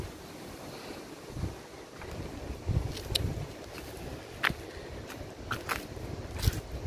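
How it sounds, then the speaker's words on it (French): Gale-force wind near 80 km/h buffets the microphone outdoors, a steady low roar broken by sharp gust bursts and brief crackles, moderately loud with no talking. "Ça souffle dans les 80 km/h."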